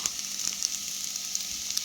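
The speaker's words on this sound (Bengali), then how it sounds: "এখন আমি দিয়ে দেব সিদ্ধ করে রাখা ম্যাগি" Boiled Maggi noodles going into a hot pan beside a fried egg, a soft even sizzle with faint crackling pops throughout.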